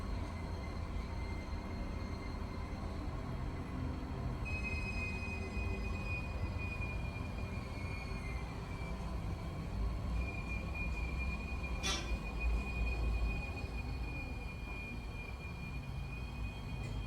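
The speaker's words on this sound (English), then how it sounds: "There's the commuter train we're gonna get on." A commuter train arrives at the Texas & Pacific Station in downtown Fort Worth, Texas, a continuous low rumble with a thin metallic squeal drifting above it and a brief sharp screech midway.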